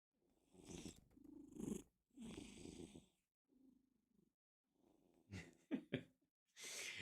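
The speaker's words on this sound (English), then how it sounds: "She immediately starts purring." A relaxed cat purrs in close, rumbling bursts with quiet pauses between them, breathy and soft throughout.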